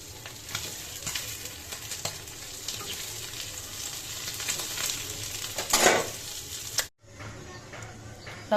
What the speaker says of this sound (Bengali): আগে মাছটি বাজি করে নিই